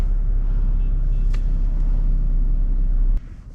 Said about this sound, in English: There seems to be a lot of traffic on the Brooklyn Bridge.